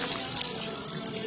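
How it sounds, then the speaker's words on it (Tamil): Tamarind water pours into a pot of sambar, giving a steady, close splashing trickle that holds fairly even for just over a second with no talking. "இப்ப இந்த தண்ணியை வந்து இதுல சேர்த்துக்கலாம்."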